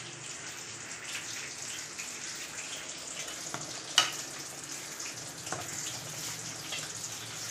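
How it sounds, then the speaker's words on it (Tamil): A pot of chicken curry for biryani bubbles at a steady boil, a constant soft hiss and simmering texture with a faint clink partway through, no talking. "நல்லா கொதி வந்துடுச்சு, நல்லா கறியெலாம் வெந்து நல்லா கொதிச்சு"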